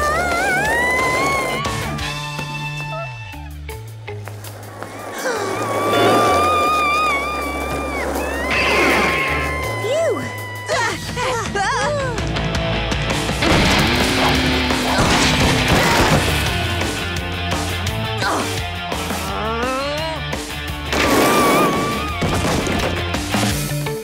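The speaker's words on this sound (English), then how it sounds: "we better put the brakes on her before she crashes" A cartoon vehicle crashes in the animated comedy Dennis and Gnasher: loud, dense smashing and clattering layered over busy music and sound effects, with a voice calling out at points.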